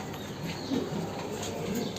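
Pigeons in a home loft give soft, low cooing calls, two faint coos rising briefly above a steady background hiss.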